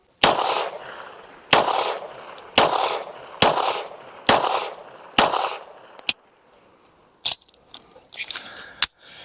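Six loud, sharp pistol shots from a Glock 42 ring out at a steady pace, each with a short decaying tail, followed by quieter metallic clicks and handling sounds after the firing stops.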